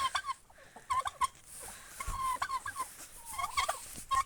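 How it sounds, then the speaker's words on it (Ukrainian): A turkey gobbles in several rapid, warbling bursts, fairly close and clear, with short pauses between calls. "Індик"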